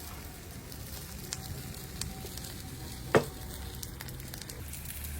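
Food frying in hot oil in a pan: a steady soft sizzle throughout, with one brief louder crackle or clink partway through and no talking.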